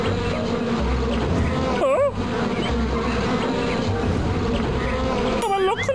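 Cartoon bees buzz loudly and continuously as they chase a bear, a dense steady drone with warbling whoops and cries over it.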